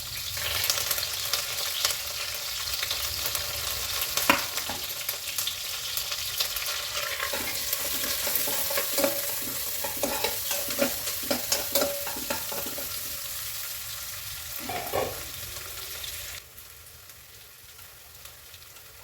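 Onions, green chillies and curry leaves frying in a pan for an aloo matar tomato curry, a steady crackling sizzle with clustered sputters and stirring scrapes, quieting toward the end.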